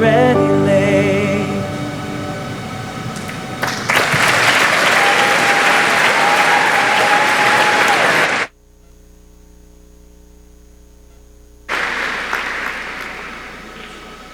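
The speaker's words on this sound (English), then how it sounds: "Let's give the Yale Choir another round of applause, please" A graduation audience at Yale applauds the Yale Choir, loud sustained clapping that swells in after the singing ends, cuts off abruptly to a low hum, then returns.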